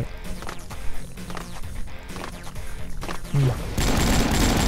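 Gunfire in the online shooter AvatarStar, with a dense mix of shots, bursts and impacts that build into a loud, continuous barrage near the end, close and unbroken, with no voice.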